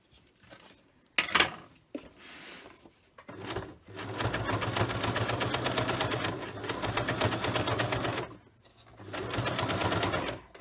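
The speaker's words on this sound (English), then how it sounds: "so we'll do some more stitching" A sewing machine stitches rope to build a fabric basket, running in long steady bursts after a few brief clicks and handling noises, with a short pause before it resumes.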